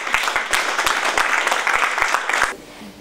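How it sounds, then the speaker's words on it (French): Close, lively applause from the audience at a public reading session, with distinct individual claps standing out, then breaking off abruptly near the end into quiet room tone. "Merci, on peut applaudir."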